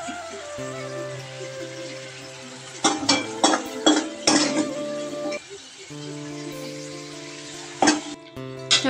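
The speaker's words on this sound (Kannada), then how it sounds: "ಇದನ್ನ ಕಂಪ್ಲೀಟ್ಲಿ ಇವಾಗ ನಾವು ಫುಲ್ ಸಾಂಬಾರ್ನ ಒಗ್ಗರಣೆನ ನಾವು ಸಾಂಬಾರ್ಗೆ ಹಾಕೊಳ್ಳೋಣ" Tempering is poured into a pot of karimeen (pearl spot) fish sambar and stirred, giving a few sharp metallic clinks and scrapes over a steady sizzling hiss, with bursts of utensil knocks close by.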